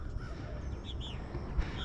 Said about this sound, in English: I got a bunch of birds, probably chasing bugs